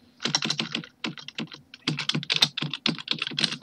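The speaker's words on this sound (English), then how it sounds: "Quit typing, it hurts my ears" Rapid clattering keystrokes on a computer keyboard during an online card game session, close and loud, coming in dense bursts with brief pauses and no talking.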